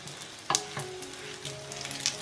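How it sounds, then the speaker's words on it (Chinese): Beef rolls filled with shredded cheese frying in a flat pan brushed with a little oil give a soft, steady sizzle with a couple of sharp clicks and pops. "卷好了就可以下锅煎啦"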